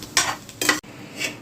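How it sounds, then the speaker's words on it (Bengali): Nuts frying in ghee in a pan for bhuna khichuri, with two short scraping stirs and a clink of a utensil over a soft sizzle, close and brief, with no voices. "এখন ঘিয়ে আমি বাদামগুলো একটু ভেজে নিচ্ছি"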